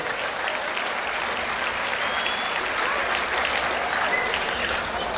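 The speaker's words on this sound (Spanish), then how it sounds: "Un fuerte aplauso, por favor." Crowd applause at an annual jaripeo fair in Tianguistengo, held in honor of the patron saint; dense, steady clapping from a large audience sustained for about five seconds without a break.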